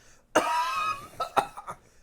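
A single harsh cough with a raspy, drawn-out edge, followed by a few shorter throat-clearing coughs, close and fairly quiet.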